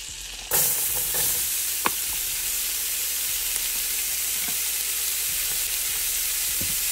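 Diced yellow onion sizzling in a pot for Tuscan ravioli soup, a steady loud hiss that starts abruptly as it hits the hot fat, with a few faint clicks of stirring and no talking.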